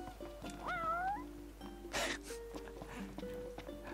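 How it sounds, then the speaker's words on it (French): A cat in Final Fantasy XV lets out one clear, rising, drawn-out meow near the listener. Game ambience and small clicks follow, with no talking. "Et toujours ce putain de chat."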